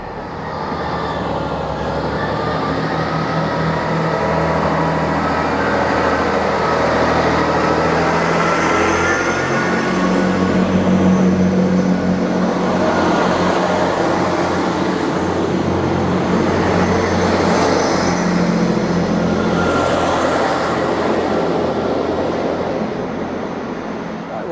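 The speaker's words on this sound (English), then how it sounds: "See this train out." A train rumbles steadily as it pulls away from a station, a continuous low mechanical drone with rising and falling rail noise, fairly close and with no talking.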